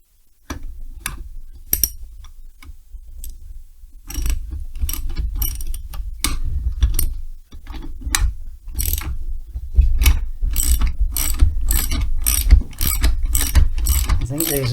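Ratchet wrench clicking as it undoes a 14mm left-hand thread nut on a Stihl 090 chainsaw, rapid metallic pawl ticks in repeated bursts, close and fairly loud throughout.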